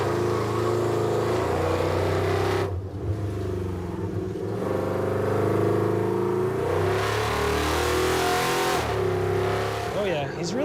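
A muscle truck with a custom four-link setup makes a hard timed run, its engine revving loudly through gear changes, close and strained, with someone talking over it.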